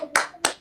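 A small group claps together twice on a count, two sharp close claps about a third of a second apart in a quiet room.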